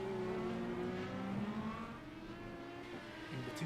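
An IndyCar engine in a racing video game on a Detroit street course whines at high revs, a steady tonal drone that shifts pitch as it eases and builds again.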